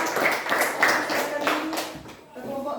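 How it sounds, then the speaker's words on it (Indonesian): Students in a classroom clap for a student group after its presentation, a brief scattered patter of hands that thins out and fades near the end. "Oke, berikan tepuk tangan."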